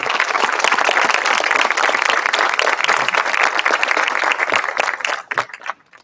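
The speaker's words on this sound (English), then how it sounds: "let's give your parents, guardians, and family members a round of applause" A crowd applauds loudly and steadily at a high school graduation ceremony, many hands clapping together before the sound thins out and fades near the end.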